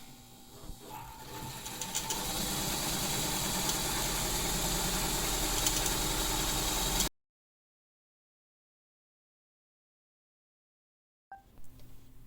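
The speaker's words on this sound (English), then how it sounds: "So I'm going to do a pretty close seam, since this is just sort of to hold the pleat in place." A sewing machine runs a close seam holding a pleat on a fabric medical mask: a steady mechanical whir and rapid needle clatter for several seconds, then abrupt silence with a faint click near the end.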